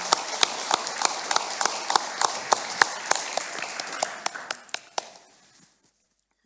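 Live audience clapping at a literature festival event: a steady run of crisp, evenly spaced claps that thins out and fades into silence.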